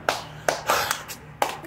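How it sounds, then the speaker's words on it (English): Several sharp hand claps land close by in an uneven rhythm, with a brief cluster near the middle and one final crisp clap after a pause. "Why are you clapping in my face while I'm trying to make a video?"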